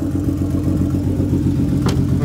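A turbocharged BMW E36 engine running with no exhaust fitted, a loud, steady rumbling drone held close and continuous, with a brief higher hiss near the end.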